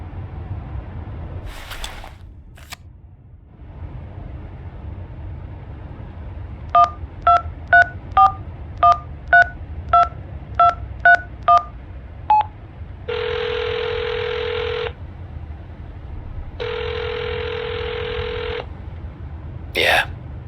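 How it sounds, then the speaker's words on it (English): A telephone number is keyed in the Hitchhiker mystery video game, a quick series of a dozen evenly spaced DTMF dialing beeps followed by two long ringback tones, with quiet ambience and brief voice before. "Dial the number."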